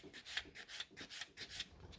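A nail file shaping a gel nail extension made with gel from a bottle on short natural nails, giving short, quick rasping strokes in a steady back-and-forth rhythm, close and fairly soft, with no talking.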